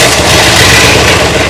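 A 1962 Chrysler engine loud and close, a steady heavy rumble running throughout with no gaps, more like a settled idle than a distinct crank-and-catch.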